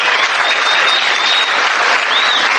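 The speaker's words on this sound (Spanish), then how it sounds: "Un aplauso, muchachos." Dense, continuous applause from an audience at a live talk fills the whole stretch at a loud, even level, with faint crowd noise mixed in.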